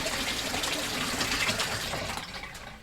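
Strong, steady rush of water gushing from a pump-fed line outdoors, loud and close, running continuously with no talk over it.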